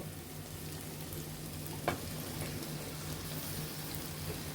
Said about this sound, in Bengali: এখন সয়াবিনের সাথে ভালোভাবে মশলাটি ভালোভাবে কষিয়ে নিব আমরা